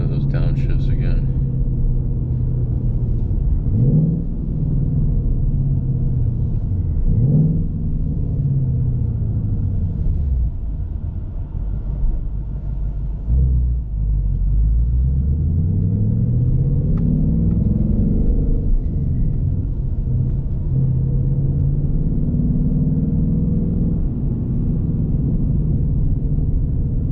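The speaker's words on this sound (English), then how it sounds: "Let's listen to those downshifts again." A 2026 Ford Mustang GT with a 6-speed manual heard from inside the cabin: a loud engine drone with several rev blips as it downshifts, pitch rising and falling through repeated gear changes, with someone talking over it.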